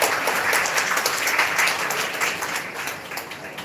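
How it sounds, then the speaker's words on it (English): An audience at a live bioethics session applauds its students with dense, sustained clapping that gradually thins out. "Can we have a big round of applause for our students?"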